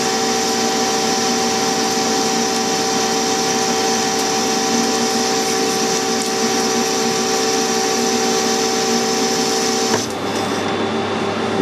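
A lathe machining a bearing housing with budget tooling, breaking chips cleanly: a loud, steady machine whine with strong tonal hum runs unbroken for about ten seconds, then changes abruptly near the end as the cut stops.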